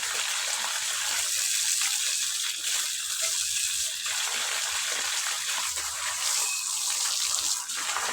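Tap water runs steadily while dishes are washed outdoors, a continuous close splashing stream with small clinks and shifts in flow throughout.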